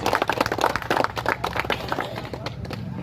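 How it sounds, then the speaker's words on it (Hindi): Audience applause welcoming a Bihar government minister at an environment event, a dense patter of many hands clapping steadily and fairly loud, with a few voices mixed in. "चलिए सबसे पहले एक जोरदार ताली से सर का स्वागत कीजिए"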